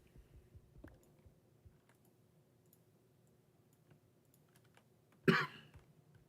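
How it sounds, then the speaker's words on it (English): A single sharp cough bursts out near the end, close and fairly loud, after several seconds of near silence with faint clicks. "Sorry about my coughs too."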